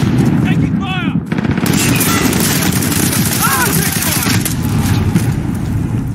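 Loud, dense gunfire from Call of Duty: Modern Warfare, with sustained automatic bursts and repeated shots, heavy vehicle rumble underneath and radio chatter mixed in.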